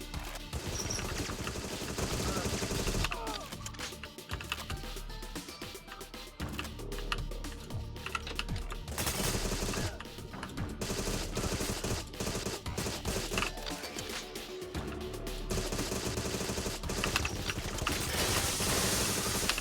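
Gunfire in the spy shooter game Agent 64: Spies Never Die, dense bursts of shots running nearly the whole time, loud and busy, with occasional brief lulls.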